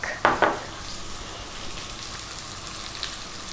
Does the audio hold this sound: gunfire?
no